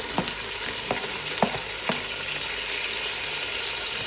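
Green chilies and tomato sauté in a pan, giving a soft continuous sizzle with a few sharp spatula scrapes and taps near the start.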